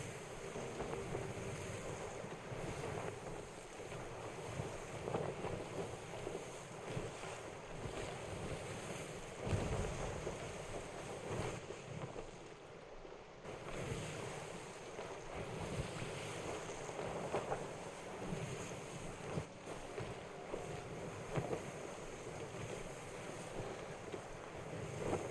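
Ship sailing across open ocean in Sea of Thieves, with steady rushing waves and wind buffeting the hull, a continuous loud wash of surf and wind noise throughout, no talking.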